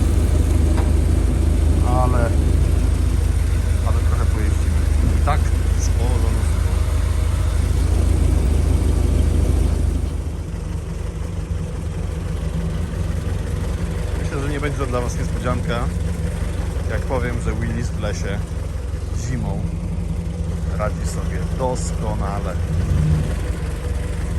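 A Ford GPW jeep driving in winter toward a forest, its engine a steady low drone that is louder at first and then quieter, with a person talking over it throughout.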